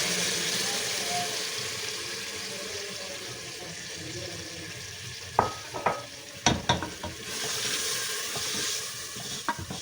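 Soaked chana dal roasts in a pan with a low steady sizzle, broken midway by a few clattering knocks and scrapes of a utensil against the pan.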